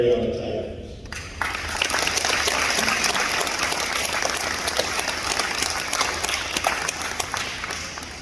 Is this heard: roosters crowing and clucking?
no